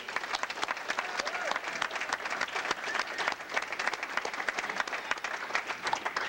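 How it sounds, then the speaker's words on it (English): A crowd applauds steadily for several seconds, dense clapping at moderate volume with no pauses. "Let's give him a nice round of applause."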